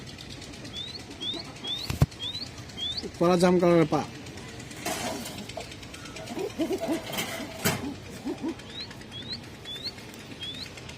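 Wings of a large pigeon flap in short bursts close by, with occasional faint chirps, while someone talks over them throughout.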